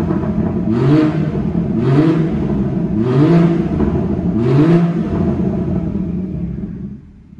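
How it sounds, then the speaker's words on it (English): Exhaust of a BMW 340i M Sport Touring with an M Performance sound and power pack, revved in sport mode: four loud, evenly spaced throttle blips with a deep rasping rumble that rises and falls, close up, then settling and fading out. "So I think you've got to hear the exhaust basically."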